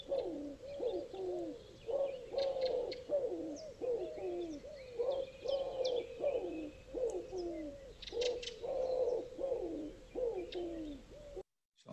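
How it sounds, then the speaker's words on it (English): Wood pigeon cooing in a garden, a steady series of soft, breathy five-note phrases repeating rhythmically at moderate distance, with faint chirps of other small birds in the background. "I'm sure that's a sound that we've all heard, and that's the wood pigeon"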